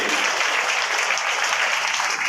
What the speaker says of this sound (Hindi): अब तालियां बजा दो डीआरएम और रेलवे